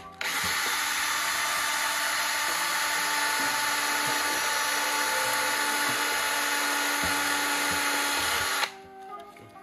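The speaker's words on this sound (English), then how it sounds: "So now that we're done drilling the holes" Close, loud power drilling runs continuously for several seconds as holes are bored into a model of Boba Fett's throne room, with a steady high whine that cuts off abruptly near the end.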